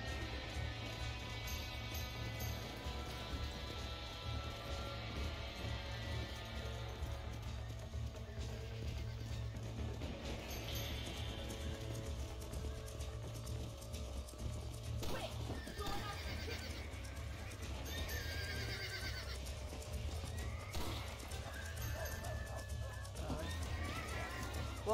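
A horse in the Red Dead Redemption video game neighs and clip-clops along, steady hoofbeats and whinnies mixed with game ambience and music, heard fairly faintly at low level.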